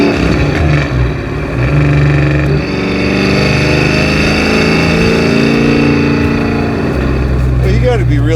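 Eleanor Mustang from Gone in 60 Seconds, a classic muscle car, idles with a steady deep engine rumble that swells briefly as it revs, with people talking close by over it.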